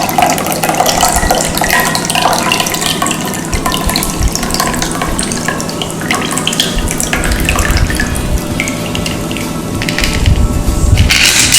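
An elderberry cocktail is poured through a small sieve, making a steady, close liquid splash and trickle that runs loud and unbroken throughout.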